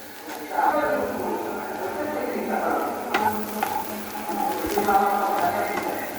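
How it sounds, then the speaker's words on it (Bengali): Sizzling and frying of vegetables in a pan with occasional stirring scrapes, steady and close, with a voice talking over it. "আমি একটু রান্না করে নিব, একটু ভাজা ভাজা করে নিব ভাজিটা"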